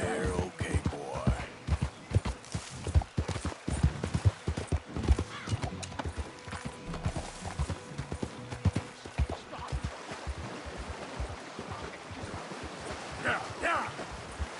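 Horse hooves clip-clop steadily at a walk in the Red Dead Redemption 2 video game, close and rhythmic, with a whinny early on and a voice speaking softly over the footfalls.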